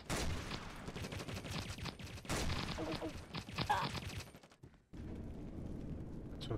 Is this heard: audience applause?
no